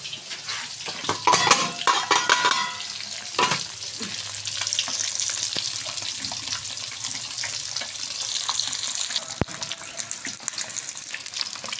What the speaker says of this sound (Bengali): ডিমগুলো প্রায় ভাজা হয়ে গিয়েছে, এখন ডিমগুলো আমি নামিয়ে ফেলবো